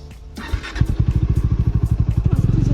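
Motorcycle engine starting up and settling into a rapid, even thumping idle close by, loud and steady, on a road trip through Purulia.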